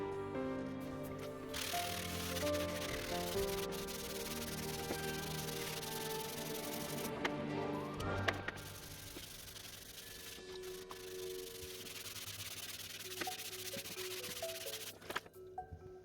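Steady close rubbing of sandpaper on a Suzuki Let's 4 scooter mudguard being smoothed for repair, a continuous scratchy back-and-forth that runs nearly unbroken with a few brief pauses, no talking.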